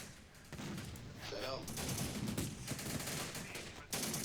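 Gunfire in the war strategy game Syrian Warfare during a final assault on a tank, with dense bursts of rifle and machine-gun fire crackling steadily throughout, moderately loud and mixed with other battle noise.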